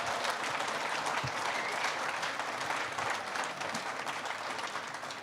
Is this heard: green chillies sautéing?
no